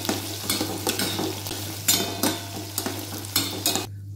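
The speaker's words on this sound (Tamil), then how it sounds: "கடுகு கால் ஸ்பூன், ஜீரகம் அரை ஸ்பூன், மிளகு அரை ஸ்பூன், வெந்தயம் கால் ஸ்பூன், பூண்டு கொஞ்சமாக, சின்ன வெங்காயம் போட்டு நல்லா வதக்கிக்கணும்" Mustard seeds, cumin, pepper, fenugreek, garlic and shallots sauté in a pan for a Tamil garlic kuzhambu, a steady close sizzle broken by repeated scraping stirs of a spoon.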